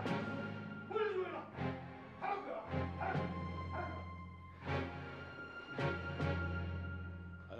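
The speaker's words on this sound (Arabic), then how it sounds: "الكلب." A dog barks in a dramatic Syrian television series, with several loud bow-wow barks in bursts over a steady low background hum, close and clear.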